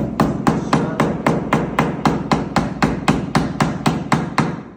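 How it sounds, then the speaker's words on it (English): A hammer drives staples over Romex cable during a solar panel installation, landing about a dozen loud, evenly spaced blows, one after another, close up and alone. "don't squeeze the wire when you're hammering it"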